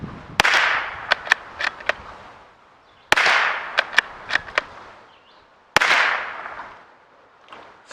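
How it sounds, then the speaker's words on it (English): Three sharp, loud bolt action rifle shots ring out a few seconds apart, each a crisp crack followed by a rolling echo and quick reflections off the surroundings, with no speech between them. "we are going to try a bolt action to get a decibel reading"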